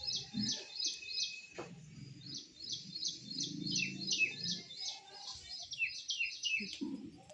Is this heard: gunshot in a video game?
no